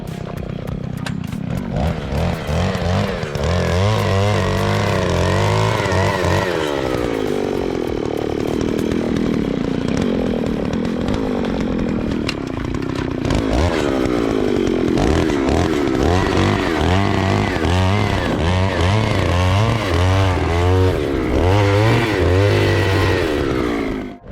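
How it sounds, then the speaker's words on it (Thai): Motorized auger drilling planting holes for bamboo and banana plants in Li district, Lamphun, a loud continuous engine drone with rising and falling revs as the bit bores into soil. "ตอนนี้เริ่มเจาะหลุมแล้วนะครับ"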